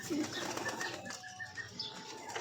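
Pigeons in a loft flap their wings in a steady, rustling flutter close by, with soft cooing faintly in the background.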